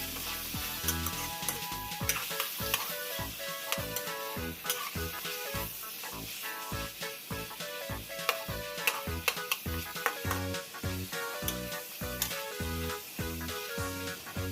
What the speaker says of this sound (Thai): หลังจากนั้นเราจะใช้ ซี่โครงหมู ลงไปผัดกับสามเกลือนี้นะคะ คือกระเทียมพริกไทย รากผักชีค่ะ